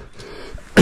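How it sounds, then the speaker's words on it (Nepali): A trekker with a mild, lingering cough on the Annapurna trail gives a single short throat-clearing cough near the end, close and sudden after faint background noise. "मलाई अलि हल्का खोकी लागेको छ"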